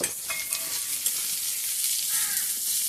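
Malabar spinach seeds being fried and stirred in a pan give a steady close sizzle with light scraping and stirring clicks throughout, no voices.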